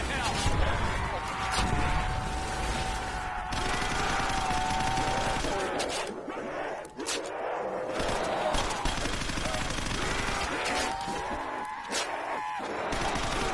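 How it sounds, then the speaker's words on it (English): Sentry gun firing in a Call of Duty custom zombies map, a steady stream of rapid automatic gunfire running under game music and talk. "Sentry gun."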